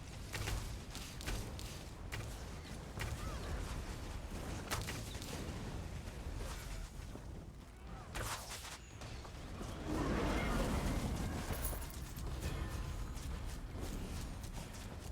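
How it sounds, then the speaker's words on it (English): Fireworks set off during a festival event in Elder Scrolls Online's Elsweyr zone, a dense barrage of bursts and crackling pops continuing throughout, with a swelling roar of louder explosions near the end. "Fireworks!"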